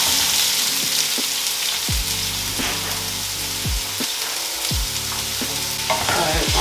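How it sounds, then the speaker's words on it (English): Onions added to hot oil in a pan, loud constant sizzling and frying with repeated stirring scrapes and knocks of a utensil, close up with no talk. "Onions are added to the pan"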